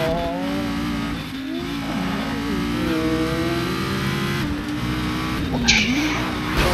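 Racing car engine in the Grid video game, revving and shifting continuously with rising and falling pitch, ending in a short skid squeal, heard steadily and loud throughout.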